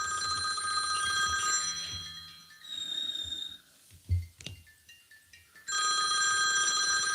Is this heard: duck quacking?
no